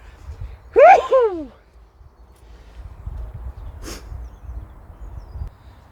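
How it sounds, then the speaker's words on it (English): A single loud sneeze close up outdoors on an allotment, followed by quiet background noise and a faint brief sound a few seconds later. "As he goes to sneeze."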